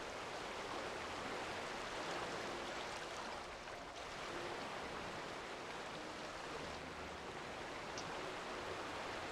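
Steady, soft broadband rush of falling water at a ruined waterfall in the city-building game Anno 1800, continuous and even throughout with no voices.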